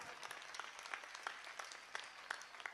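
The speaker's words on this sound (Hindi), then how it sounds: "आपकी तालियां कम थी" Applause from a crowd at a nighttime Hindu unity march gathering, a faint steady patter of many hands clapping with a few louder claps standing out.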